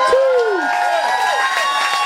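An audience at the Global Youth Awards 2018 in London cheers and whoops loudly and continuously, with high rising and falling shouts over a dense crowd roar.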